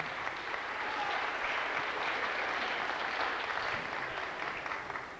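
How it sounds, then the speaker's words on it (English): An audience at a memorial concert claps for a performing air group, a sustained, even wash of applause from a moderately distant crowd that slowly tapers at the end. "Give them another round of applause there now"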